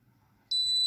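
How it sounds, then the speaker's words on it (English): Arduino visitor counter buzzer sounding when the room is overcrowded, a sharp, steady high-pitched tone that starts suddenly after near silence and holds to the end. "the buzzer makes a buzzing sound"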